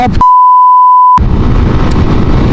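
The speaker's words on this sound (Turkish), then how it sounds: "Korna çalıyorum yine fark etmiyor." A single steady electronic motorcycle horn blast in traffic in Turkey, loud and close, held for about a second, with heavy road and engine noise rumbling before and after.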